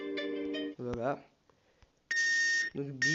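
Electronic beeps from a racing game app on a phone, steady tonal bursts alternating with swooping synthetic tones, loud and close, with no speech.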